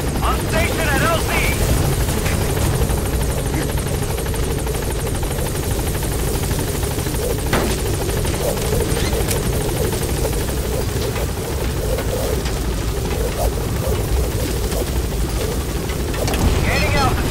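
Steady rotor thrum and engine drone of the B-Quad support helicopter arriving at a landing zone in Metal Gear Solid V, continuous and fairly loud throughout, with radio-style voice chatter over it.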